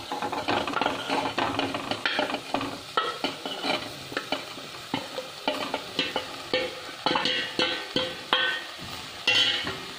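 Mushroom pieces fry in a pan for a mushroom and drumstick leaf curry, with a constant close sizzle broken by repeated scraping and clattering strokes as the pieces are stirred.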